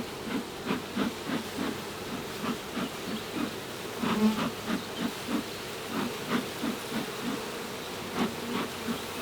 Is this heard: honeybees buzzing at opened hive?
yes